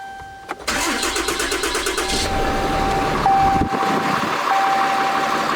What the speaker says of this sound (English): So we're just going to start it gently and let it idle.